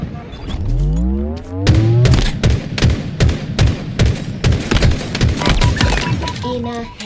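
Rapid gunfire bursts from a first-person shooter match in Halo Infinite, loud sharp cracks repeating in a dense irregular barrage over a rising whine, with game effects mixed in.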